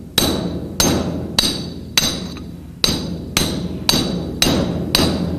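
Metal hammer blows on a part of a GM 10-bolt rear axle during a rebuild, nine loud, evenly spaced ringing strikes about every 0.6 seconds, each with a short metallic ring, close and without talk.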